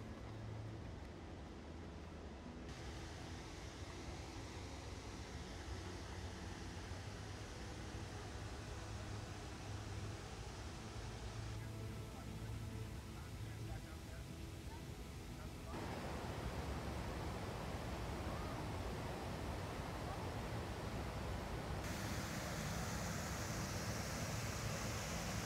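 Tahquamenon Upper Falls in Michigan, a broad waterfall carrying over 6,000 gallons per second over its brink, roars as a steady, dense wash of noise that grows louder partway through and never lets up.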